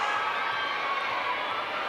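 Volleyball arena crowd cheering for Bea De Leon at a PVL match, a dense continuous roar of many voices held at steady loudness throughout.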